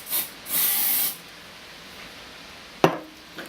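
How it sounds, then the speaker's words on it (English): Two short bursts of spray activator hit a window surface, a quick puff followed by a longer hiss, then a sharp knock and faint handling noises in a quiet room. "What I'm going to do is spraying the window surface first"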